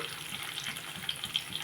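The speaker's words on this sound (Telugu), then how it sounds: "వాటర్ వేసుకున్నాను" Water poured into a pot for wheat rava upma, a soft, fairly faint steady splashing and gurgle with a few brighter drips toward the end.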